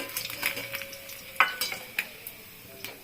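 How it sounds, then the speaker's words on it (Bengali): Boroli fish frying in oil crackles and sizzles close by. The steady hiss is broken by sharp pops and light utensil taps. "এই একইভাবে সব মাছগুলো ভেজে নিলাম কড়া করে।"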